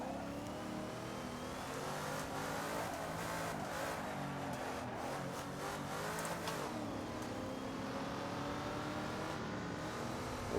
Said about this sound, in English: I'm in a 1970 Mustang Boss 302.